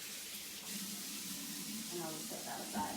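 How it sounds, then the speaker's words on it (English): A cleaning rag is rinsed under a running tap, a soft steady hiss and splash of water at moderate distance, with a person speaking briefly over it. "If you can give a glance over that as I rinse this out really fast."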